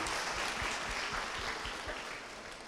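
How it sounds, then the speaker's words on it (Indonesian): Audience applause at a student event, a steady dense wash of clapping from a crowd with low thumps underneath, holding level for the whole stretch before easing slightly at the end. "Tepuk tangan teman-teman."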